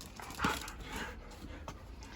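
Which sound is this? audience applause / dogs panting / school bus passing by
dogs panting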